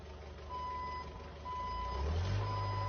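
Forklift reversing beeps from a modded Everhood 2 level sound as three evenly spaced tonal pulses over a steady game backdrop, with a deep rumbling swell building toward the end.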